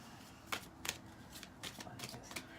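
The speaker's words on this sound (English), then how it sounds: "Let me just give some shuffles here" Playing cards are riffled and shuffled several times in quick bursts, close and fairly quiet.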